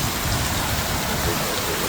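Heavy rain from Storm Claudia in Portugal pours down steadily, a loud, dense, continuous wash of falling water with no voices.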